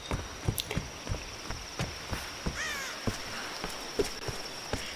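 Distant crows caw in the Tomb Raider video game over a faint ambient bed, with regular soft footstep thuds and insect-like chirring underneath.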